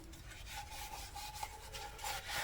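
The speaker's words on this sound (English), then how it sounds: "I'm going to Scotch Brite the inside a little bit" Abrasive pad rubbing on the inside of a rusty VW engine part, a steady rasping scrub with short repeated strokes, close and moderately quiet, with no talking.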